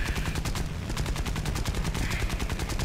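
Rifle-calibre guns on a Japanese plane in the War Thunder game, firing rapid, steady automatic bursts that run almost without pause, loud and close.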